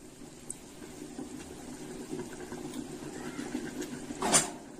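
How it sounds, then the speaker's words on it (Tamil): Water coming to a boil in a cooking pot for mushroom vegetable biryani makes a faint, steady bubbling simmer with soft pops and one brief louder burst near the end. "தண்ணி கொதி வந்துட்டு இருக்குது."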